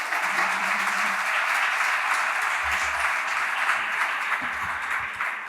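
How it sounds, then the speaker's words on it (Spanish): A conference audience claps for its speakers, a dense, even wash of many hands sustained throughout and fading slightly at the end, with no voices over it. "Demos un aplauso a nuestros conferenciantes."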